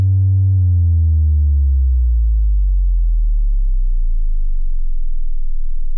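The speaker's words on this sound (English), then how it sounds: "So you hear that really low tone?" A VCV Rack modular synthesizer plays a loud, steady low sine tone whose pitch slides smoothly downward toward about 20 Hz, becoming a deep rumbling hum near the bottom of hearing.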